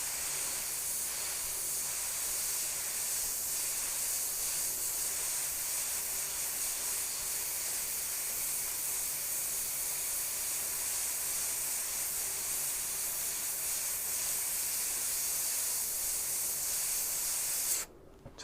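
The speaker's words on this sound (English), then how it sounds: "I'm going to take the white and I'm just going to spray a little bit around it" Airbrush hissing steadily as it sprays white paint around the areas of a Pathfinder skeleton knight miniature, a close, continuous airy spray that runs unbroken and cuts off abruptly at the end.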